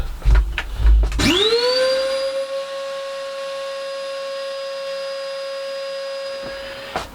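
Shop vacuum cleaning sawdust out of a bandsaw in a small shed: a motor spins up with a rising whine after some clunks, holds a loud steady drone close by, then cuts off near the end.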